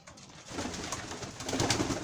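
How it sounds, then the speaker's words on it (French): Pigeons in a backyard poultry and bird-keeping setup coo softly at close range, low murmuring calls repeating over a quiet, breathy background with no talk. "Alors ici il y a les pigeons"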